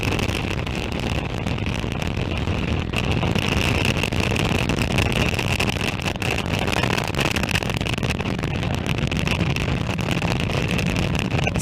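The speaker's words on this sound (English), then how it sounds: "Successful liftoff of Falcon 9 from Space Launch Complex in Florida" A SpaceX Falcon 9 carrying Starlink satellites lifts off from a Space Launch Complex in Florida: a continuous broadband roar, steady and buffeted like heavy wind, running unbroken throughout.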